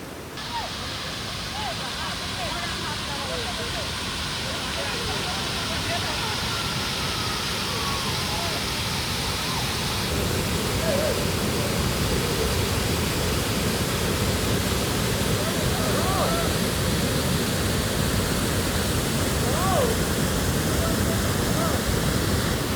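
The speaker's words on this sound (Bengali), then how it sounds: "এই দেখুন আমার সামনেই রয়েছে ওয়াটারফলটা" A waterfall with fast water rushing beneath a bridge roars as a loud, steady broadband wash, constant and close with no break, swelling slightly louder partway through.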